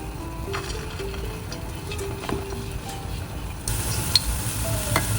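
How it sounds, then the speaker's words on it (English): Potato cutlets fry in a pan with a steady close sizzle and a few faint clicks, and the hiss grows louder partway through. "Put in the potato cutlets like this, and then put it inside. There you go. So let it cook."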